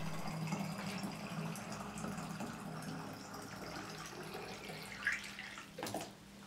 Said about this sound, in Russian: Снова зальем сюда воду, чтобы она стекала узкой струей через воронку